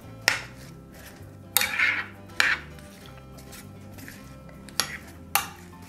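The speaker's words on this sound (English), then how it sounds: "And I'm just gonna give this a stir." Polish sausage casserole with raisins in a pot being stirred, heard as a few separate clanks and scrapes of a utensil against the pot, close by, with quiet pauses between them.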